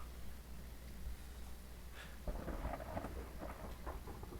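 Rain falls steadily in the video game Phasmophobia while a low rumble of thunder rolls underneath, the downpour thickening and growing louder about halfway through.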